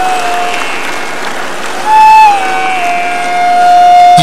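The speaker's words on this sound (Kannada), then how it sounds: "ಮೊದಲು ಈ ಮಕ್ಕಳಿಗಾಗಿ ಜೋರಾಗಿ ಚಪ್ಪಾಳೆ ತಟ್ಟಿ" An audience claps for young children who have just finished a group yoga demonstration, a dense, steady spatter of applause with a faint sustained tone drifting underneath.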